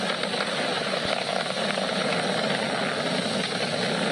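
SpaceX Falcon 9 rocket engines during ascent, throttled down approaching maximum dynamic pressure, a dense continuous roar with a broad rumbling texture, steady and unbroken, with no speech over it.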